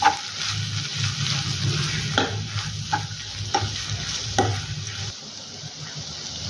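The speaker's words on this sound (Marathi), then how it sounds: "साधारण 2 ते 3 चमचे भाजलेल्या शेंगदाण्यांचा कूट आपण यामध्ये टाकूया आणि तो देखील व्यवस्थित असा मिक्स करून घेऊया" Roasted peanut powder gets stirred into tomato chutney in a pan, a continuous scraping stir over a soft sizzle, with a few sharper spoon knocks at a steady, close level.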